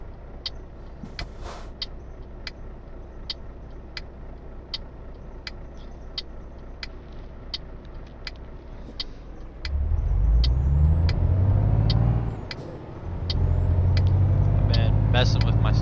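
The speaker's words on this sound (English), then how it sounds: "There's that beautiful Jake Break" Euro Truck Simulator 2 truck engine with Jake brake engaged, a loud deep rumbling drone kicking in over an idling engine hum with regular ticking, briefly cutting out and then returning, while a voice talks.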